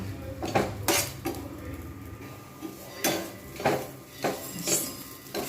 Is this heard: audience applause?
no